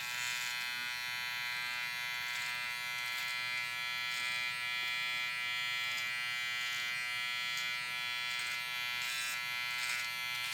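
A Wahl hair clipper fitted with a T blade hums with a continuous high electric buzz while trimming hair, steady and close throughout with no talking.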